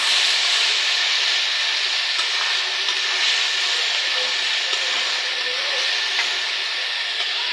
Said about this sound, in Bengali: এটাকে আমি ততক্ষণ পর্যন্ত ভাজবো যতক্ষণ না এটা কালারটা একটু লাল লাল না হয়ে যায়, লালচে কালারে।